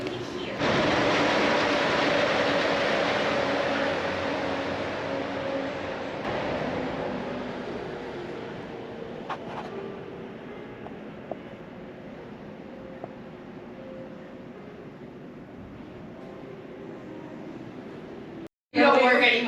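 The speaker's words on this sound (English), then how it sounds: "The monorail just behind us." A Disney monorail glides past at the Grand Floridian resort, a steady broad rumble and whir that is loudest at first and slowly fades, with faint voices nearby.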